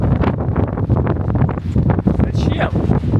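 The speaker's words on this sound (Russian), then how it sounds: "Шумят иголками, сосны здесь стоят. Ух, поддувает так конкретно." Strong gusts sweep through pine trees on La Gomera, roaring and buffeting the microphone with loud, uneven rustling, while a person speaks over the wind.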